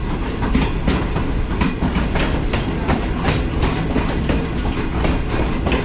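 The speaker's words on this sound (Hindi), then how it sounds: "तो ट्रेन जो है हमारी वो फाइनली पहुंच चुकी है लाहौर जंक्शन रेलवे स्टेशन के आउटर पर" Green Line Express train pulling into the outer approach of Lahore Junction station, its wheels giving a steady, loud clickety-clack rumble over the rails with repeated rhythmic joint knocks throughout, no voices.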